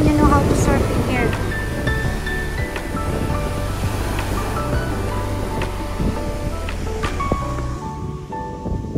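Ocean waves and surf at a beach rumble and wash steadily for several seconds, with wind noise and people talking over the continuous roar.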